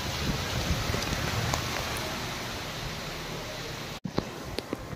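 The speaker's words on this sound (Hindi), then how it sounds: "फिर से यहाँ पर बारिश आ गई है, बहुत ही तेज बारिश आने लग गई वापस से।" Heavy rain pours down steadily outdoors, a loud, dense, even hiss of falling water that fills the scene, broken by a brief dropout and a few sharper spatters toward the end.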